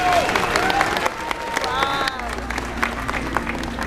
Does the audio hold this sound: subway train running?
no